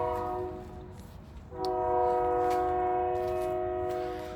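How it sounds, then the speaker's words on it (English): Train passing near a garden sounds a long, steady multi-tone horn blast that starts partway through and holds for several seconds over the low rumble of the rail cars, loud and fairly close. "Again, trains."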